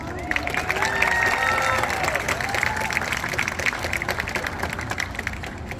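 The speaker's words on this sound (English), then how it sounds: "why don't we welcome them back with a great big round of applause" A crowd at an aquarium sea lion show applauds warmly, with dense clapping and some cheering, while sustained tonal sounds drift over the top and the clapping slowly thins out.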